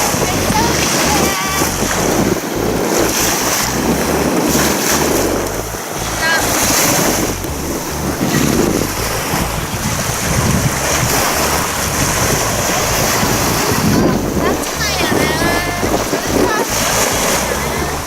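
A cruise boat travels down a river toward the sea at Langkawi, Malaysia, with a steady, close rush of wind and water noise throughout and voices talking over it.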